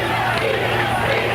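A football crowd and bench players at a 1980 high school championship game yell for defense, a dense continuous roar of shouting voices, loud and close, filling the whole moment without a break.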